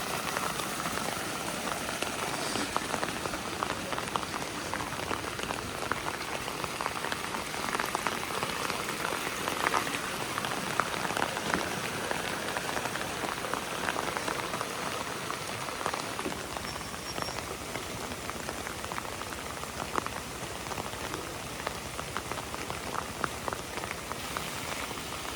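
Heavy rain on a slippery, muddy mountain road on the Muaro Aie route in West Sumatra, a dense steady patter and hiss of drops throughout, close and even, with no talk.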